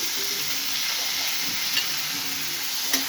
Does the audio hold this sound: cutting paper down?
no